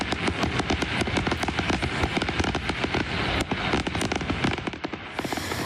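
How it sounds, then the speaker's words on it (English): Fireworks at Vancouver's annual fireworks competition over English Bay crackle and pop in a dense, continuous barrage of sharp bursts, heard from the crowded beaches, easing off slightly near the end. "scores of people packed the beaches on Saturday to watch the annual fireworks competition in Vancouver"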